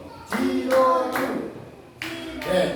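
Children in a primary classroom doing the Indonesian scout clap, tepuk pramuka, in a patterned sequence: several close, loud bursts of group clapping mixed with young voices, with brief pauses between bursts.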